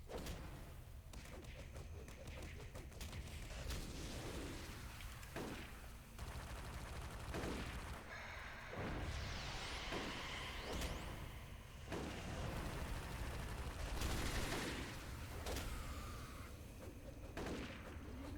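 Automated turrets open fire in the video game Stalker, a dense, sustained barrage of gunshots and thuds that rolls on almost without pause, loud and layered throughout.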